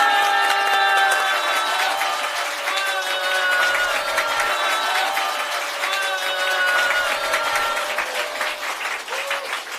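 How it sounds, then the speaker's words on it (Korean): An audience at a religious gathering breaks into sustained applause, dense clapping filling the room with a steady roar, while a voice speaks over it. "신이님께 다시 한번 뜨거운 감사의 박수 올려주시죠"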